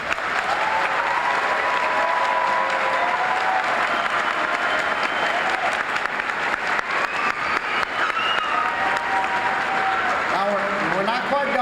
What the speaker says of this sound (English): Shall we give our graduates one more round of applause?